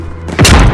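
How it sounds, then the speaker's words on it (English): A stun grenade detonates in Call of Duty: Modern Warfare, a sudden loud concussive boom that hits hard and rolls into a heavy rumble after a short quieter lead-in. "Throwing a stun!"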